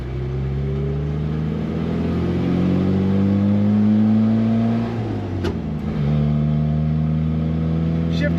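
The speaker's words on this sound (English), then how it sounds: "And it's a good running car, it's a smooth runner." A 1971 Opel GT with a four-speed manual runs smoothly, its engine hum rising steadily in pitch as it accelerates, then dipping briefly before climbing again, heard from inside the car at moderate loudness.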